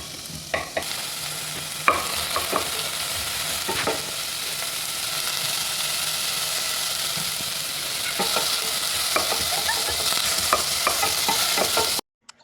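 Onions frying in a pan for a country chicken curry, a steady close sizzle broken by repeated scraping stirs of a spoon against the pan, with no voices, ending abruptly.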